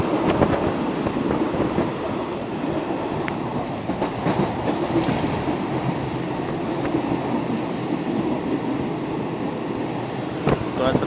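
Local train No. 426 rolling on rails toward a station in Thailand, a steady loud rumble with rhythmic clickety-clack from the wheels, heard from inside the carriage with no break.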